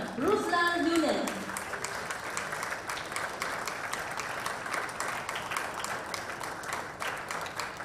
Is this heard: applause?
yes